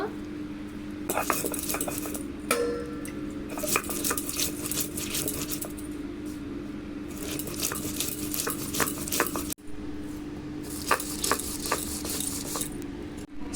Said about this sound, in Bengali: দুটো শুকনো লঙ্কা নিয়েছি ছটা কাঁচা লঙ্কা এই কটা মশলা খুব ভালো করে বেটে নেব